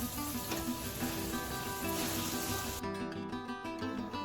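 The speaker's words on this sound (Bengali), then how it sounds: "এবারে দিয়ে দিচ্ছি মটনটা।" Pieces of mutton hitting a hot pan of fried onion and tomato, a loud dense sizzle with steady hiss that keeps going as the meat settles, heard close up with no talk over it.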